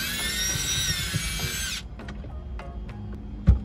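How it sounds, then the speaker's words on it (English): A power drill drives screws out of a Toyota 4Runner armrest. It whirs steadily and loudly up close for almost two seconds, then stops, followed by light clicks and a sharp knock as parts are handled. "Okay, so the removal of 6 screws."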